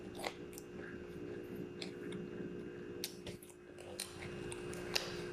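Someone chews crunchy oven-baked food close up: quiet, irregular crunches and bites with soft squishy mouth sounds over a low background hum.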